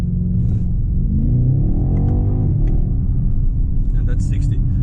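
A BMW X6 M Competition SUV launches hard from a standstill at about 3000 RPM, a loud continuous engine roar and rising rumble building up under a voice talking throughout.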